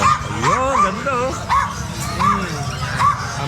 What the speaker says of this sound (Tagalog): Cocker Spaniel, American Cocker Spaniel